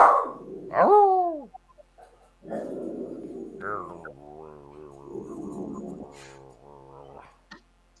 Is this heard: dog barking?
yes